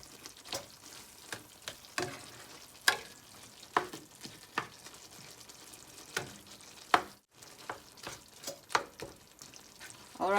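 Meat browns in a covered frying pan, giving a quiet, close sizzle broken by irregular sharp pops and spatters that flare up every second or so.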